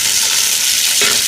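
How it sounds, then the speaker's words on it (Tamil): Shallots and curry leaves sauté in a clay pot over a wood stove for chicken biryani, giving a loud, close, unbroken sizzle with a brief stir near the end and no talking. "சின்ன வெங்காயம், கருவேப்பிலை, இதெல்லாம் வதங்கிட்டு"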